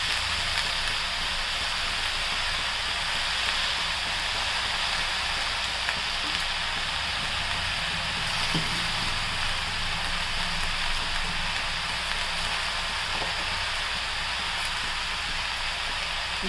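Ridge gourd and brinjal pieces fry in a pan for a paneer mixed curry, producing a soft, continuous crackle and hiss that stays even and unbroken, with no voices.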